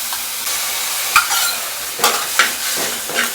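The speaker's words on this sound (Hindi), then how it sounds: "भून गई है तो इसमें हम डालेंगे 2-4 स्पून दूध" Roasted vermicelli in a pan with a few spoons of full-cream milk just poured in, sizzling loudly up close while a utensil stirs and scrapes in short bursts, with no talking.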